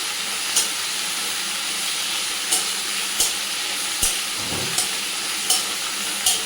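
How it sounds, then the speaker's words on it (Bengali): Garlic paste frying in a pan gives a steady close sizzle and hiss, with periodic scraping knocks as it is stirred at a regular pace and no talking. "যে রসুন বাটাটা দিয়ে দিলাম"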